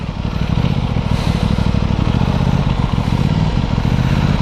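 An Aprilia SR-GT 200 scooter engine thrums loudly and steadily while riding, a close, pulsing low rumble without speech.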